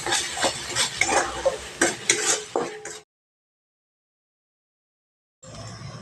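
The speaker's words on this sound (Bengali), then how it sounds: "আবারও খুব ভালো করে মশলাটা কষিয়ে নিচ্ছি" Ground spice masala being stirred and fried in a pan for a vegetarian pointed-gourd dish, with close rhythmic spatula scrapes over a sizzle for three seconds, then silence, then a quieter sizzle resuming.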